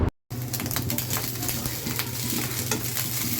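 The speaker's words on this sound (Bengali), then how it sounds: "এভাবে ডিমটাকে প্রথমে হচ্ছে আমি ঝুরা করে ভেজে নেব।" Crumbled rohu fish roe fries steadily in a pan with a dense, continuous sizzle, after a brief silent gap at the start. Scattered stirring scrapes and light clinks sound over the crackle.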